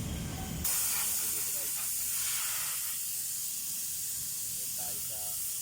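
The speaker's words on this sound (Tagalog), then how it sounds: "Carburetor spray, cleaner. Lilinisan natin, bubuga natin siya." Carburetor cleaner sprays in a loud, steady hiss onto a Chevrolet Spark's throttle body, cutting off abruptly, after which quieter handling noises and a voice follow.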